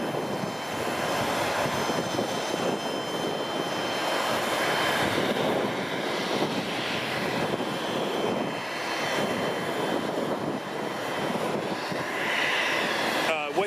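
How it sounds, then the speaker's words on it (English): Loud jet engine roar at King County International Airport, Boeing Field, a broad continuous rumble and whine that stays steady throughout, mixed with wind noise and faint voices underneath. "too much jet noise, too much wind noise"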